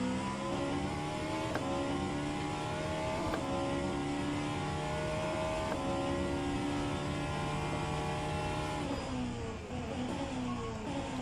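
A Vanwall Hypercar engine in the rFactor 2 sim at Sebring screams at high revs, with brief ticks at each gear change. The steady tone climbs, then dips near the end as the car slows.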